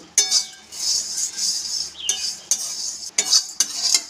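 A utensil scrapes and stirs dry flattened rice around a dry metal wok in repeated rustling strokes, with sharp clinks between them and no talking.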